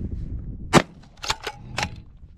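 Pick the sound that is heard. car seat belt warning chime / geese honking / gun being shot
gun being shot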